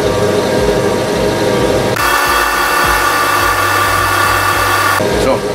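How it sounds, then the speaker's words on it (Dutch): A power drill bores a small starter hole in the centre of a small plate. A loud, close, continuous whirring grinds on, its tone shifting abruptly twice as the bit bites and the load changes. "Dus eerst gaan we een gaatje boren"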